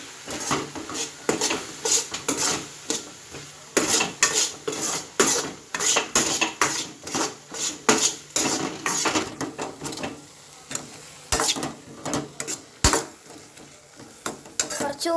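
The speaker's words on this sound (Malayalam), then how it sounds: "നന്നായിട്ട് ഇനി ഒന്ന് ഇളക്കാം." Food is stirred in a cooking pot with a metal utensil, a fast run of rhythmic clanks and scrapes against the pot's sides, close and loud, with faint sizzling underneath.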